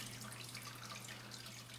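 Liquid poured through a colander while making cheese, a steady faint trickling, splashing stream running throughout the short moment.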